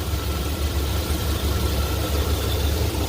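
The 6.0L V8 of a 2003 Chevrolet truck with reduced engine power idles low and steady up close, a continuous rumbling hum with faint mechanical ticking and no voices.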